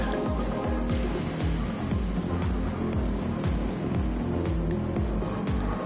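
Gr.3 race cars at Spa in Gran Turismo 7 roar wheel to wheel, engines repeatedly revving and shifting in a rapid sawtooth pattern, loud and continuous with occasional tire noise.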